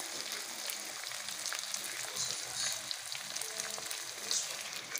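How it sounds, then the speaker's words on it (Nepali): Onion and tomato fry in oil in a pan, a faint, continuous crackling sizzle with small pops, close and steady, with no voices. "अनि त्यसपछि पियाज गोलभेडा हालेर सरक्क बनाउँछु। तेलमा तरतर भुट्छु है।"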